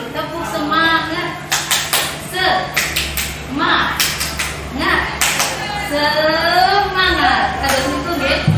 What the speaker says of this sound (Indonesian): Jadi ini contoh dulu, tepuk semangat.